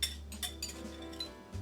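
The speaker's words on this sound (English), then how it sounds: "Let's bring all that stuff from the bottom in and whisk it up." A whisk clinks against a bowl while stirring batter for peanut butter and chocolate protein donuts: several quick, quiet metallic taps at an uneven rhythm.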